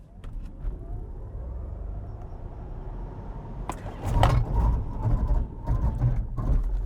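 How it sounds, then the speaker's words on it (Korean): A dual-motor BYD Sealion 7 electric SUV in sport mode launches toward 100 km/h, its low cabin rumble suddenly swelling into louder road and wind roar partway through, with no talking. "시속 100km까지 가속하는데 딱 한 4초대가 걸리는 것 같아요"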